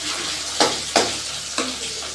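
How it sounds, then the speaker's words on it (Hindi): Spices with garlic and onion fry in oil in a pan, a steady hiss of sizzling with three short scraping stirs of a spoon, close up. "इधर हमारे मसाले लहसुन प्याज पक गया है।"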